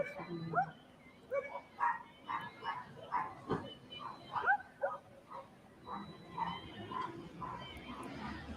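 Several dogs bark and yip at night outdoors, a scattered, fairly distant chorus of repeated barks under people talking.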